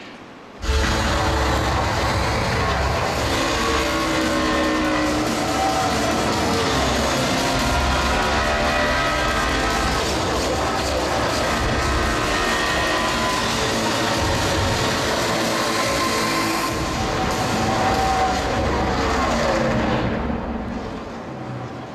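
NASCAR race cars roaring on a racetrack, a loud, continuous wall of engine noise and rushing sound that holds steady for about twenty seconds before easing off at the end.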